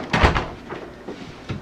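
A door is pushed shut in a cramped room, giving a dull thump followed by a couple of softer knocks and rattles as it settles, close by.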